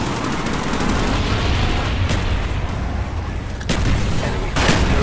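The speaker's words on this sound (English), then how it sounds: "Enemy napalm strike inbound." Napalm strike explosions in Call of Duty Black Ops capture-the-flag multiplayer rumble as dense, continuous blasts and crackling fire. Sharper bursts punch through the steady roar.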